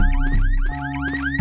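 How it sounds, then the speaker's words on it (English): A car alarm in a pixel-art horror video game wails loud and close in rising, repeating electronic sweeps, with no voices over it. "Oh, I can turn off the alarm in the car."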